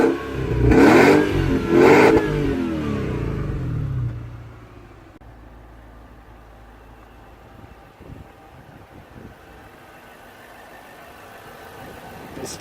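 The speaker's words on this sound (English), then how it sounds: "So there's the V8 engine." A Nissan Cima 4.5-litre V8 engine fires up and revs loudly twice in quick succession, then settles into a low, quiet idle that continues for several seconds.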